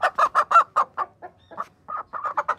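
A hen clucks in a quick run of sharp, close calls, pauses briefly, then resumes with another burst of clucking.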